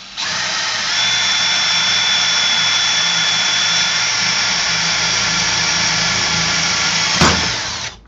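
A power drill runs loud and close in one long, steady whirring burst that lasts several seconds and then winds down.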